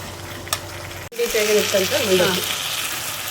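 Tamarind tempering for mandakki oggarane simmers and sizzles in a pan at close range, a steady hiss broken by a sharp clunk and a brief wavering tonal hum, with a washing machine running at home.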